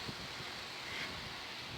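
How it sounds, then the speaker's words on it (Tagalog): Strong wind blows outdoors on a cold, sunny day, making a steady, even roar of rushing air and buffeting with no pauses. "lakas ng hangin dito. Ayan, malakas ang hangin. Strong wind."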